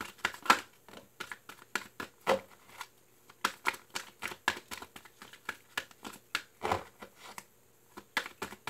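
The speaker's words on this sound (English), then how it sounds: "Last shuffle." A deck of tarot cards is shuffled by hand during a reading, giving rapid close riffles and slaps in quick irregular bursts with brief gaps between them. No one speaks over it.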